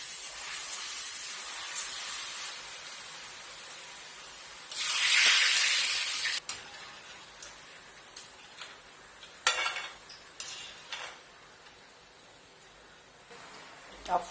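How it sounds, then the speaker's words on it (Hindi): Moong dal pakoras frying in hot oil in a kadai, a steady sizzling hiss with bursts of louder crackle and occasional clinks of a utensil against the pan. "Now we are going to fry it."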